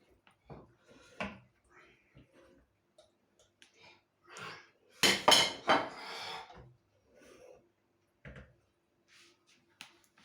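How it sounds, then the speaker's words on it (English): A saucepan and utensils are handled while cooking homemade BBQ pulled pork, producing scattered quiet clicks, knocks and scrapes with a louder clattering burst midway amid near silence. "just pick the saucepan up and do it that way"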